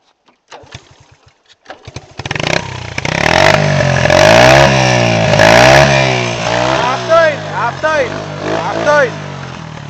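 A Honda C50 moped fitted with a Motorsport exhaust starts up, then revs hard and loud up close in repeated rising bursts; voices talk over the engine near the start.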